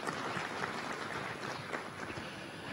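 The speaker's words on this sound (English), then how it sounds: "A round of applause, ladies and gentlemen." Audience applause at an annual board of governors meeting of a trade and development bank in Kampala, Uganda: a sustained, even wash of many hands clapping from a large room, steady throughout.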